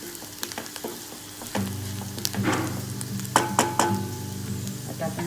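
Onions fry in a pan until pink, starting with soft ticks and then swelling into a fuller sizzle with crackles and spatula clinks, close and with no talking.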